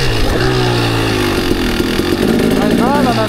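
A motorcycle engine revs hard for a wheelie, a loud, close, buzzing drone that rises and falls in pitch, with a person talking over it.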